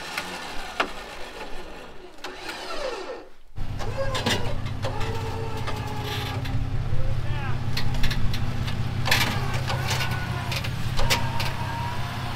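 A 4x4 truck engine cranks and fires into a steady loud idle, preceded by clunks and door noise, then holds a rumbling drone while people talk over it.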